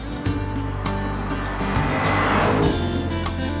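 Audi RS7 sports sedan cornering hard through curves, a steady loud engine drone with rising revs and a brief tire-road hiss swelling midway, no talk.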